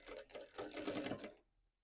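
Sewing machine stitching a fabric bag, a fast buzzing run of needle strokes for over a second that stops abruptly, heard close and quiet with no talk.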